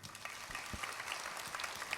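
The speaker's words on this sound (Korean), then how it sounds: "박수 한번 보내주십시오." An audience claps for a guest explorer at a talk show event, a soft, steady patter of many hands that sounds somewhat distant and thin, with no voices over it.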